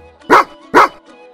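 A Taigan dog gives two loud, close barks about half a second apart, each short and sharp, with near silence between and after them.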